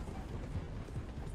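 Horse hooves clip-clopping at a steady pace in Red Dead Redemption 2, a few soft muffled beats under a low rumbling background, no talk.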